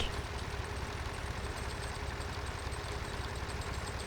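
An old 1940s–50s tractor engine idles steadily in the Farming Simulator 2013 game, a constant low rumbling drone with no variation and no voices.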